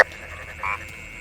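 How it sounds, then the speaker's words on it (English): A swollen-bodied albino frog gives one short, faint croak over a quiet background hiss. "This is an albino frog, and its swollen body is due to lymphatic fluid accumulation inside."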